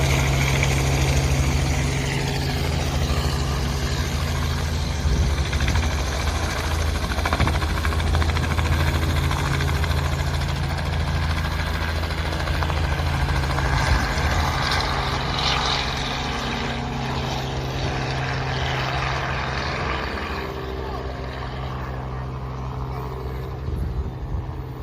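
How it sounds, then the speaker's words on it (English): Helicopters at Barton Airport fill the air with a steady low engine drone and rotor thrum, heard from a moderate distance throughout, broadly constant with slight swells. "Quite a few helicopters here today."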